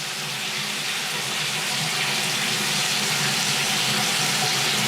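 Tap water runs steadily down a sink drain in a house being inspected, a constant close hissing splash with no pauses and no talk.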